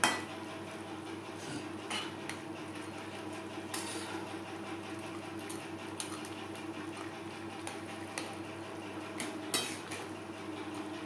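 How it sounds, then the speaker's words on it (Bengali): Fried katla fish pieces and fish heads stirred into vegetable gravy in a pot, with steady scraping of a spoon against metal, faint clinks and a soft simmering patter throughout. "গ্রেভির সাথে মাছ ও মাছের মাথা বেশ ভালো করে মিক্সড করে দেব।"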